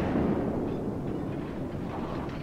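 Heavy battleship artillery salvo in the naval game World of Warships, a loud deep rumbling roar that sustains and slowly fades over a couple of seconds, with no talk over it.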